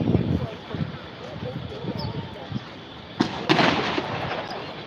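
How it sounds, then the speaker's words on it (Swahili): Police firing gunshots and tear gas canisters during unrest in Mukuru kwa Njenga, heard as scattered distant bangs and thuds, with two sharper louder cracks near the end, while people talk nearby. "mnaweza sikia hizo milio za risasi na za tear gas"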